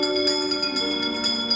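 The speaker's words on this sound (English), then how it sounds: "give us a hint by ringing a bell" A bell rings in a Haunted Mansion themed light show, several quick bright chimes repeating rhythmically over a sustained musical drone.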